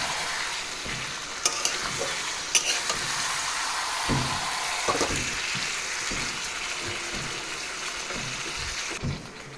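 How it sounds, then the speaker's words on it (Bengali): Mutton stir-frying with cumin powder and tomato in a pan, a continuous sizzling hiss with scattered crackles and the soft scrape and clatter of stirring, close and moderately loud. "জিরার গুঁড়ো, টমেটো দিয়ে দিলাম। এবার এখন মাটনটাকে আমরা কষাবো।"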